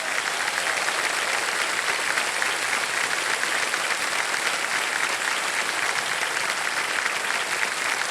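A studio audience on a TV quiz show applauds: dense, steady clapping from many hands, loud and sustained without a break, no voices on top.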